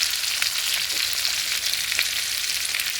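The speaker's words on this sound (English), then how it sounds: "now I'm going to add the heavy cream to it" Heavy cream poured into a hot pan with celery, a bright, crackling sizzle that holds steady and close with small pops throughout, no voices.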